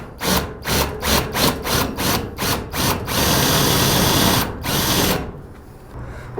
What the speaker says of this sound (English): Let's just drill these out.